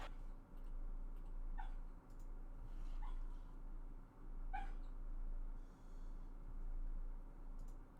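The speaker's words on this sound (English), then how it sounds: "Looks like my dog is having a dream of some kind, and they're yipping and yapping in their dream" A dreaming dog lets out a few faint, high yips spaced a second or so apart over a steady low hum, with no other sound nearby.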